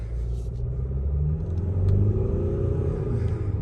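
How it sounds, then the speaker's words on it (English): A Mercedes-Benz ML250 diesel engine idles and rumbles steadily while the SUV reverses, a low continuous drone heard alone with a slight swell partway through. "So there's that diesel engine."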